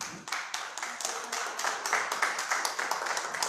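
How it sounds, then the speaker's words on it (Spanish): Church congregation clapping together in a steady, fairly even rhythm of hand claps, close and moderately loud, continuing throughout with no clear talking over it. "Denle un aplauso al Señor."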